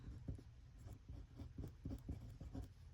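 A pen writing on paper, faint close scratchy strokes in a steady rhythm of short repeated marks, quiet and alone.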